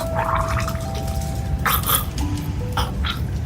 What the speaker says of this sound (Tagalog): Nakakapangasim lang sikmura yung tunog ng mga pagsuka nyo.